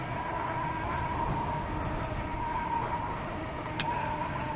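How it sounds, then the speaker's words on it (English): The tire of a Begode Extreme electric unicycle rolls along a road, giving a steady droning hum with a sustained tonal whine and constant low rumble, without speech. "Oh, listen to that tire. Just like the pattern."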